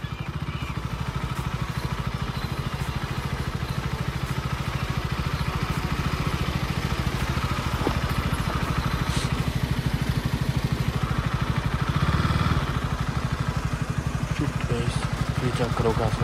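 A motorcycle engine idles steadily on a road in Kashmir, a continuous low mechanical rumble with a faint clatter that runs the whole time under nearby men's conversation.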